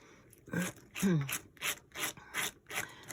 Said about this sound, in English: I have this plastic palette knife right here handy, so it works great